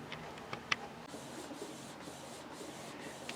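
A Canon Pixma TR-series inkjet printer fitted with a continuous ink system prints a photo, giving a soft steady mechanical whir with a few small clicks near the start, close and without speech.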